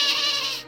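A single short, bright goat bleat, close and fairly loud, fading out after under a second with nothing else around it.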